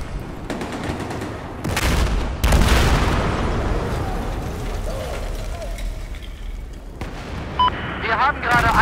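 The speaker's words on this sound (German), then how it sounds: "Gastanks explodieren bestimmt." Loud explosions of gas tanks in Battlefield 4 boom close by, followed by rumbling debris and scattered gunfire-like cracks, with a voice talking underneath.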